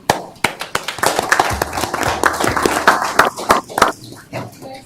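Audience applause for Diana Lopez at an Ogden City event, a dense burst of clapping from a crowd lasting the whole moment, steady and fairly loud with some low murmuring underneath.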